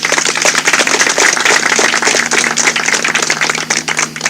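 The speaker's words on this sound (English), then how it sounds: "we owe him a round of applause" An outdoor crowd at a backyard political gathering claps in sustained applause, a dense, lively patter of many hands close by that carries on steadily without speech.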